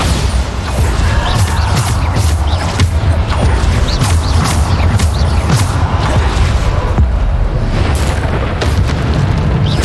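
Bombarda blasting spells go off in Hogwarts Legacy, a dense, unbroken barrage of loud booming explosions and rumbling debris that fills the whole stretch with no pause.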